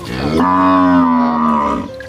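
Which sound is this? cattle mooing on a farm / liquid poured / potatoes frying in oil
cattle mooing on a farm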